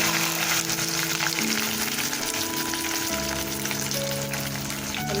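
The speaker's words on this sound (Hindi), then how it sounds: "अब उसी तेल के अंदर जो है हम भिंडी को फ्राई करेंगे।" Chopped okra frying in leftover oil, a loud, constant crackling sizzle close up, steady and dense from start to finish with a faint hum beneath.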